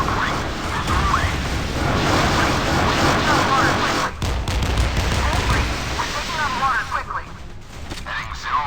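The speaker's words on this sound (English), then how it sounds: "Gunners are ready to open fire." Naval guns fire continuously in the Modern Warships game, a loud dense barrage of blasts and mechanical clatter that runs almost without pause, with a brief gap midway and a game voice heard over it.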